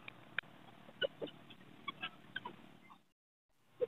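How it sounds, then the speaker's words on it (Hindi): Soft clucks from a Mianwali-breed rooster at a bird market in Chichawatni, several short calls scattered over low background hubbub, then a short pause and one more cluck. "ये मियाली नस्ल का मुर्गा है"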